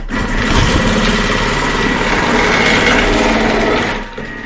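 A Thermomix Cutter slices root vegetables on its thick setting, giving a loud, steady motorized whir that runs for about four seconds and then stops abruptly.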